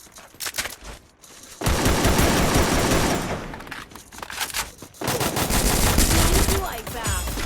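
Video game gunfire crackles in long sustained automatic bursts, loud and close, broken by short pauses between volleys.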